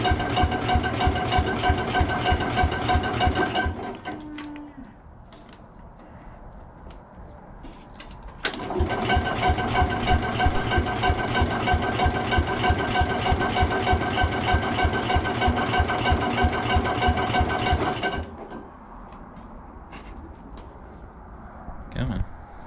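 Small choke-operated engines kept in winter storage crank, catch and then run with a rapid, even chugging beat in two long stretches, separated by quieter pauses, with a brief spoken line during one pause.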